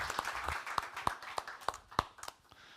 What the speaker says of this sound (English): give them an applause, a warm hand